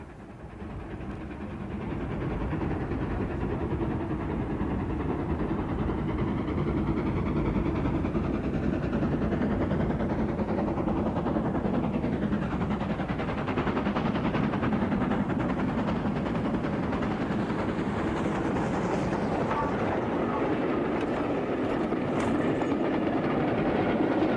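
An LNER steam locomotive, number 1306, on a demonstration run rumbles steadily past for a long stretch, a continuous heavy roar with faint rhythmic clatter of wheels on track, no voices.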